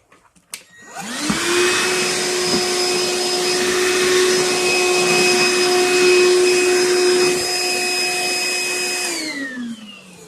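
A Hercules 20-volt cordless half-gallon wet/dry shop vacuum starts with a click, whirs loudly at a steady high-pitched drone, then winds down at the end.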